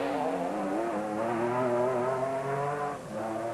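Castrol Toyota rally car on a dusty track in the Sugarbelt 400 2008, its engine droning at a steady high pitch as it passes nearby, with a brief drop in loudness near the end, no talking.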